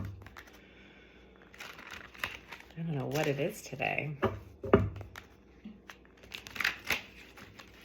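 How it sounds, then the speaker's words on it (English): Tarot cards being shuffled in a cold room, soft riffling, flicking and crinkling bursts scattered through the clip, with someone talking over parts of it. "I am sorry for this shuffle mania here"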